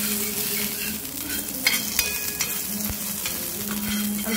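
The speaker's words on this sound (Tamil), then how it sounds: "கொஞ்சமா எண்ணெய் ஊத்திட்டு நம்ம லைட்டா அந்த கருவேப்பிலையை" Curry leaves sautéing in a little oil in a pan, giving a steady close sizzle and crackle with occasional light stirring clinks.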